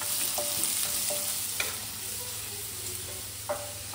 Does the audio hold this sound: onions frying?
yes